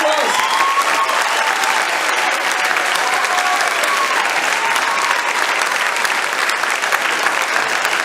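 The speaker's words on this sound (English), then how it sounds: "Give these guys a massive round of applause." An audience at a street magic show bursts into loud, sustained clapping and cheering that fills the whole stretch without letting up.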